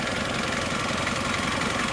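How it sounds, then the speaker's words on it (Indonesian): A steady, close car engine hum from the air filter, with a faint rhythmic knock underneath, continuous and unchanging throughout. "Cuma ini filter udara agak mendengung."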